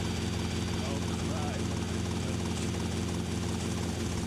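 Helicopter in Grand Theft Auto: Vice City – The Definitive Edition, a steady loud rotor and engine drone that fills the whole stretch without letting up, with a voice talking over it.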